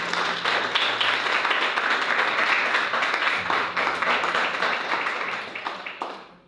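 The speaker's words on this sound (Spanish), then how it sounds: "Denle un aplauso al Señor por eso." A church congregation applauds after a sermon, sustained dense clapping from many people that stays loud and even before fading out at the end.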